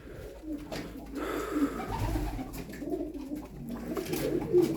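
Tumbler pigeons, a flock of about fifteen, cooing softly and repeatedly close by over a steady low rumble of background noise, with no clear talk.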